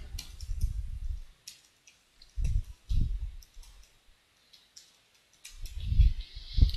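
Computer mouse clicks while changing a user password in an SAP system, a few sharp separate clicks spaced over several seconds, with soft low thumps between them and no talking.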